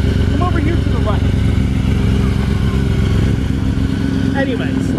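A Yamaha R6 motorcycle engine running loud and close, a steady idle drone with mild rises in pitch, under someone talking.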